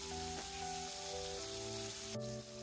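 Bubbling hot oil sizzles continuously around small puti fish frying in a pan, close and even, with a sharp clatter or scrape near the end.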